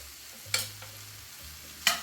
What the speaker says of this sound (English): we're just going to give it a stir for a minute or two